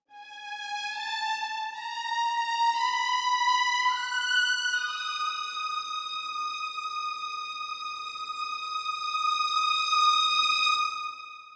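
Sampled strings playing a theme, sustained bowed tones with only slight vibrato, a few held notes shifting pitch, steady and fairly loud with no talking.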